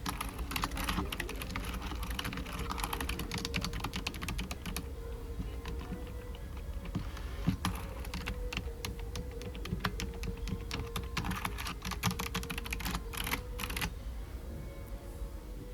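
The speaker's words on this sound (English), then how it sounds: "There's something wrong with the keyboard." Someone types on a computer keyboard in an IKEA display room, a steady close patter of soft key clicks that continues in busy bursts for over fifteen seconds, with no talk.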